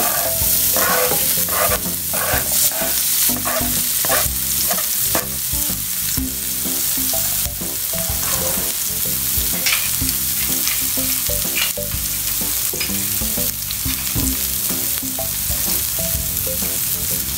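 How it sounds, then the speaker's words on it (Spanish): Vegetables sautéing in olive oil, a loud, constant close sizzle with frequent scraping and stirring strokes against the pan, no voices. "ahora voy a proceder a echar los vegetales para sofreír"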